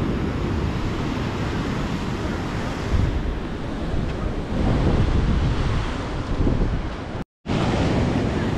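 Waves and wind at Manapad beach in Thoothukudi district, Tamil Nadu, make a steady loud roar of surf mixed with microphone wind buffeting, then a brief dropout near the end.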